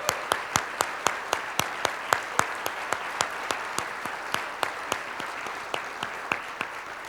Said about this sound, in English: let's give them another round of applause and have them please stand